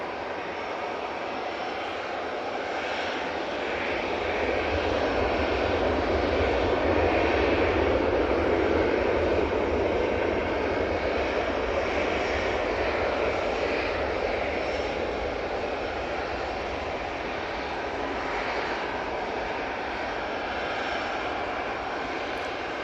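A plane on the runway at Manchester Airport gives a steady, loud engine roar that swells slightly and holds for the whole stretch, broadband and continuous with no voices over it.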